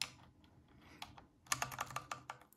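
Typing on a Corsair K60 keyboard fitted with quiet ultraviolet switches: soft, close keystrokes, scattered and sparse at first, then a quick run of crisp clicks in the second half, with no voices.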